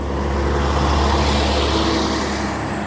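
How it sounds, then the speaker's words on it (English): Loud, steady roar of heavy road traffic, with the deep rumble of big trucks passing close by, continuous throughout. "So many big trucks making all this noise."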